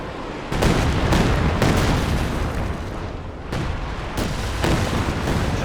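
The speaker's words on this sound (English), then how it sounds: "Here comes the next Katyusha. Going for a creeping barrage." A Katyusha rocket creeping barrage in Company of Heroes 2: a rapid series of loud, booming rocket impacts, several sharp blasts rolling one after another with a rumbling tail between them.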